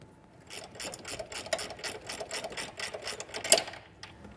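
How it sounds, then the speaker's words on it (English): A ratchet tightens the nut on a trailer wiring ground while a Roadmaster Diode 7-wire to 6-wire Flexo-Coil kit is installed, giving steady, rapid, close clicking strokes over several seconds. "and we'll get the nut tightened back down"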